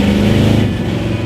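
A big block Plymouth Belvedere engine revving hard while driving, a loud, close, throaty growl that holds briefly and then eases slightly.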